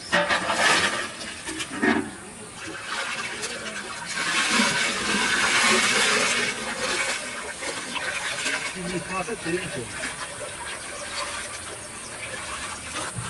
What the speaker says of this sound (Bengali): আমরা মাছটা সুন্দর করে ধুয়ে নেবো